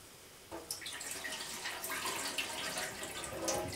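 Water poured fast from a tap into uncooked rice in a rice cooker pot, a steady close splashing rush that swells after a quiet start and runs continuously with no talk.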